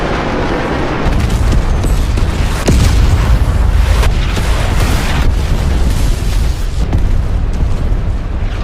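Bombs dropped from an F-16 jet explode in a sustained, loud barrage, with deep booming blasts rolling over one another and a sharp strong impact near the middle, under a constant rumble.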